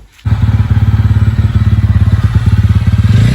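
A TVS Ronin motorcycle's 225cc four-stroke single-cylinder engine idles close by with a loud, steady, rapid thumping putter.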